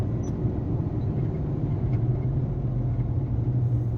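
A diesel locomotive engine runs steadily at idle, a continuous low rumble with a strong droning hum, close and unbroken with no voices.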